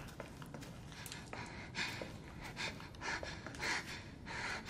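Heavy, ragged breathing from a character in Resident Evil: Biohazard, faint puffs and gasps rising and falling over a low ambient hum.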